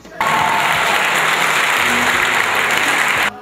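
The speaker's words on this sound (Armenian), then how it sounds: "Հերթը ելույթներինն է մարզում հանրապետականների առաջնորդին չդադարող ծափահարություններով են" Sustained applause from a crowd at a political campaign event in Vanadzor, Armenia, greeting a party leader: dense, steady clapping that starts abruptly, holds at full strength for about three seconds, then cuts off.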